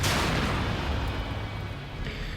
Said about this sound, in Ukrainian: вони завчасно поставили вибухонебезпечні бочки спеціально для цієї ситуації